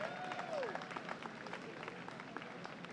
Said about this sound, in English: another round of applause for the kids from the St.